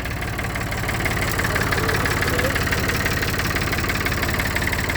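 Classic David Brown tractor engine idling close by, a steady, loud, rhythmic diesel chug with a slight knock, running evenly without any talk.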